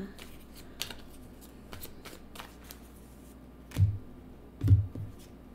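Tarot cards are handled and shuffled close by with soft, papery riffles, then two duller thumps as cards are tapped or set down.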